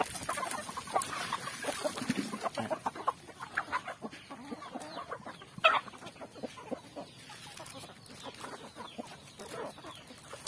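Chickens cluck steadily at feeding time, with many soft, overlapping clucks and a few sharper calls, a busy flock close by throughout.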